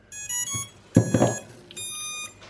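A Racerstar 20A BLHeli electronic speed controller beeps as a battery is plugged in: clear, tonal startup chirps in short sequences with a brief plug-in crackle between them, close and alone.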